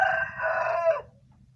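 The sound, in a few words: chicken clucking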